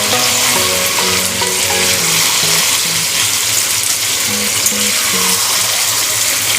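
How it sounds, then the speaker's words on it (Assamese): Duck meat fries in its own released oil in a pot, a loud continuous sizzle with a running spatula stirring and scraping against the bottom, close up and with no talking. "মাংসখিনি মই ভালকৈ লৰাই দিছোঁ। মাংসখিনি তেল ওলাবলৈ আৰম্ভ কৰিছে।"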